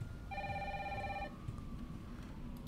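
Old-style telephone ringing inside the Resident Evil 3 Remake video game, one electronic ring burst of about a second, fairly clear over a low game ambience with no talk.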